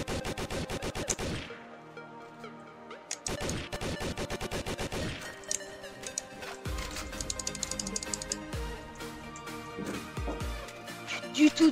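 Gunfire against zombies in a video game: rapid bursts of automatic shots in loud rattling volleys, broken by short pauses and scattered single cracks, with game effects and music around them.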